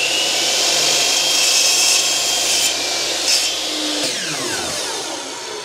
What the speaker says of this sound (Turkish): Testeremin dişini de oraya denk getirdim ve kesme işlemini gerçekleştiriyorum.